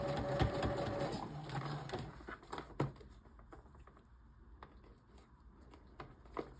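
Sewing machine stitching stretched elastic onto adaptive clothing, a quick burst of rapid mechanical whirring and tapping at the start, then scattered clicks and handling noises, close and moderately quiet.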